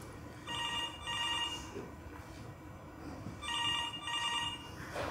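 An office telephone rings in two paired bursts of electronic trilling, moderately faint over a steady background hum, with no one speaking.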